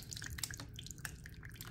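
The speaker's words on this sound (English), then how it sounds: "the form is leaking, because ground beef has a lot of fat and water that comes out." Fat and water from ground beef drip out of a leaking bread form: scattered small, faint droplet taps in an irregular rhythm over a quiet background.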